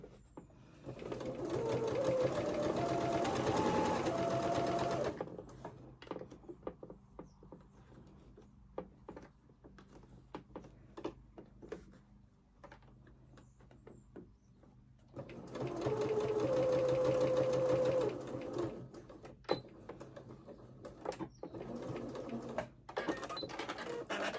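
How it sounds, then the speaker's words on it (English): A sewing machine runs in two sustained buzzing bursts while stitching a fabric bag lining, with a quieter stretch of clicks and handling between them, heard close up without talk. "I've sewn up the bottom of my lining all the way up one side"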